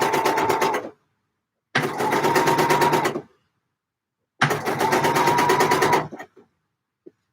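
Three steady bursts of sewing-machine stitching run along the curved neckline seam of an Eve dress, the first short, the others longer, separated by silent pauses, with a faint tap near the end.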